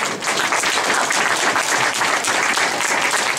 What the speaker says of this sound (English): I'd like to give a final round of applause to our speakers again